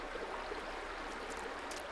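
Water runs down a flat rock face in a stream at the top of a waterfall, giving a steady, close, broadband rushing wash with no pauses.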